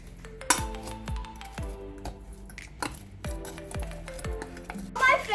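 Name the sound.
mixing French fries with oregano and salt in a bowl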